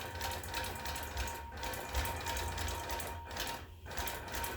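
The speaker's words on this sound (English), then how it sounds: "So let's bring up our thread again and let's continue with our basting." A longarm quilting machine bastes a quilt near its edge with long stitches of about an inch, giving a steady, continuous mechanical whir that runs throughout without a break and without talk.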